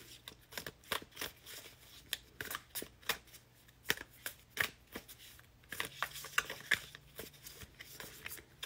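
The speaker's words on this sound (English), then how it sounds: "Let's get a card for Brandy." A deck of tarot cards is shuffled close up, a rapid run of crisp riffling snaps and slaps repeating steadily with no voice.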